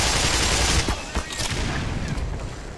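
Rapid gunfire during a firefight in the video game Black Mesa, a loud dense burst of shots that thins into scattered reports over a couple of seconds.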